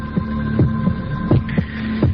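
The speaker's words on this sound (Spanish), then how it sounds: "Latidos de corazón" A recorded human heartbeat throbs in steady paired thumps, about six beats over a low continuous hum, close and moderately loud with no voices.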